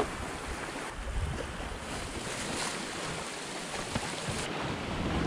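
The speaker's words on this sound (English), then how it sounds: "The sea is building up." Sea swell building to around half-metre waves around a Hallberg-Rassy 54 sailing yacht on a broad reach under spinnaker, a steady broad wash of water and wind rushing close by without a break.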